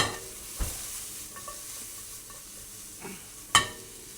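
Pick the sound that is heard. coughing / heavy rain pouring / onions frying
onions frying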